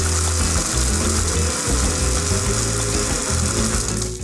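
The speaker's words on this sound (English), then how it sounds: "And it's time to blend" A blender whirs steadily for several seconds, crushing ice into a zombie cocktail, its loud continuous motor drone and rattling ice filling the clip without pause and no talking.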